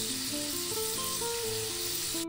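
Pork browns in hot oil in a pan for Filipino adobong sitaw, giving a steady, loud, close sizzle with no break, while faint music plays underneath.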